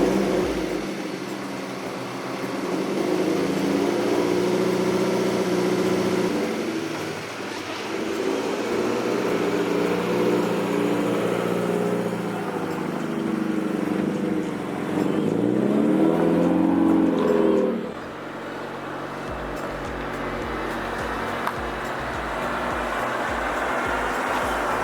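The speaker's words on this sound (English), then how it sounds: "let's go ahead, start the FRS" A Scion FR-S engine runs steadily at idle, its low droning hum rising and dipping slightly as the revs shift, close by and continuous outdoors, then settling into a quieter idle near the end.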